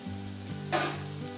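Curry of fresh cashews sizzles in a pan as it is stirred, a close steady frying hiss with one brief scrape of the spoon partway through.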